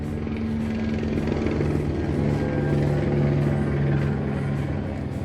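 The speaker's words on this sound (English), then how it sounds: "Lovely helicopter going over." Helicopter passing overhead in Los Angeles, its rotor throb and engine hum a steady moderately loud drone with rhythmic chopping, heard indoors without speech.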